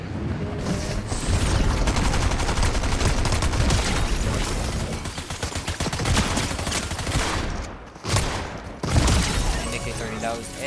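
Rapid AK-30 bursts in a video game, dense loud automatic fire with short pauses and a few heavier booms, with speech mixed in.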